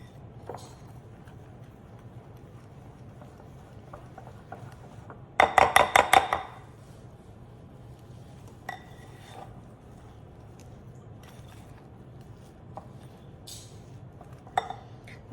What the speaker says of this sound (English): here I add half portion of the naan khatai mixture and blend it nicely with the ghee and the sugar